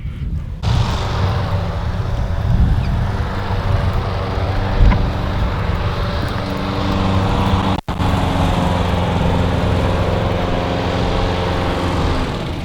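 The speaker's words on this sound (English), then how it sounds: "It wouldn't be Australia if you didn't hear a lawnmower." A lawnmower engine drones steadily and loudly through an Australian waterside neighbourhood, a constant motor hum with no break for the whole stretch.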